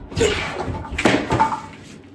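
Knife chopping cooked leftover pork on a board in a home kitchen, a few hard irregular thuds with brief gaps between them.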